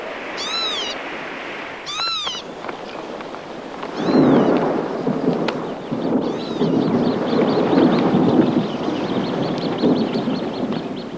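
Rain falling over marshland with a low rumble of thunder building in, steady and enveloping, following a few sharp, rising bird cries at the start.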